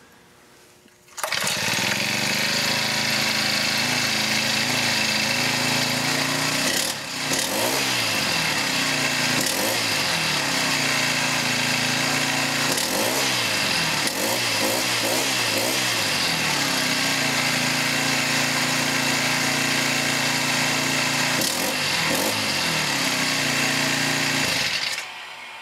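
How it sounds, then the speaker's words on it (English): A Honda GX31 small gas engine, freshly rebuilt with a new carburetor and fuel lines, cranks and catches, then runs steadily at a loud, even idle with a few brief revs, continuing alone for over twenty seconds. "here's the engine completely reassembled and warmed up, and I'll go ahead and start it for you."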